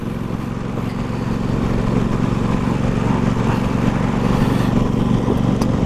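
An Aprilia RS660 sport motorcycle with a new KTech rear shock and fork kit rides along a 30 mph road, its engine droning steadily with wind rush, building slightly in intensity, with no talking.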